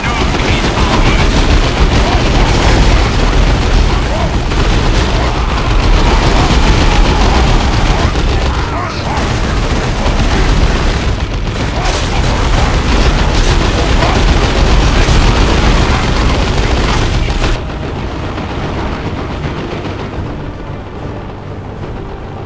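Dense gunfire and heavy explosions rage through a Dawn of War II battle: rapid machine-gun bursts, artillery-like booms and blasts, loud and continuous, then thinning slightly near the end.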